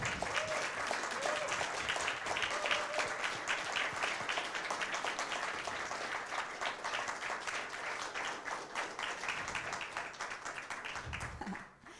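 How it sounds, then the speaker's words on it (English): Audience at the Student Cuts 2016 film festival award ceremony gives sustained applause, dense clapping from a hall full of people that stays steady before stopping abruptly at the end. "members of the organizing team deserve a big applause."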